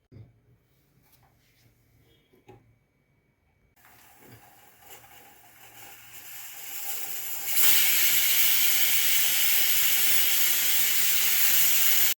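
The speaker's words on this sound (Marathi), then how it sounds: "कुकरच्या शिट्या झालेल्या आहेत दोन" A pressure cooker with carrots and water on the gas builds from faint hissing into a loud, sustained rush of escaping steam that holds steady to the end.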